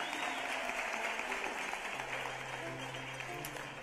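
Audience applause honoring Henry County Schools' Teacher of the Year at a 2020 celebration, steady and sustained for several seconds, with a voice starting to speak over it toward the end.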